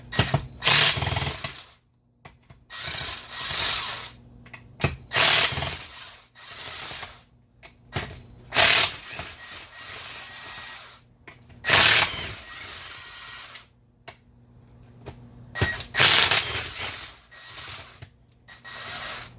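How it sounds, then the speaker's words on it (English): A hand wrench on an extension with a 14 socket works transmission case bolts loose, producing repeated bursts of metallic ratcheting and scraping separated by quiet pauses, close and moderately loud. "Alright, now switch over to my extension and a 14. We'll start taking the case bolts out."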